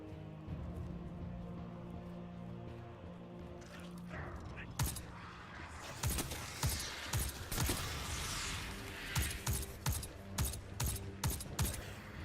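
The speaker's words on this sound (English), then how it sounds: "I like how this scout rifle feels and sounds. It's got like a suppressor on it, so it's got that muffled" A suppressed scout rifle fires in Destiny 2, producing a run of muffled, evenly spaced shots in a steady rhythm that grows busier toward the end over a low game-ambience bed.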